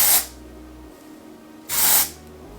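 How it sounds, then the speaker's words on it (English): Two short, loud hissing bursts of dry shampoo aerosol sprayed onto hair roots, separated by a brief quiet pause. "I separate parts of my roots at the top, and I spray"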